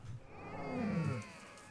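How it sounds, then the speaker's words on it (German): Tiger cubs in the zoo video game Planet Zoo let out a loud, drawn-out growling cry that rises and falls for about half a second, close by, with no talking over it. "Sind das Tigerbabys?"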